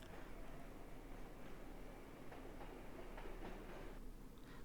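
A train rolls past in the video game Max Payne, a faint, steady rumble with soft rhythmic clacks under dense broadband noise, without any talk.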